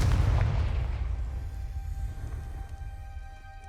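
A Confringo blasting spell explodes in Hogwarts Legacy with a heavy booming blast, then a long rumbling decay that fades over several seconds.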